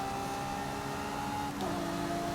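A race car engine in the Forza video game drones with steady tonal whine near the start of a race, holding pitch before shifting upward as it revs, moderately loud and alone.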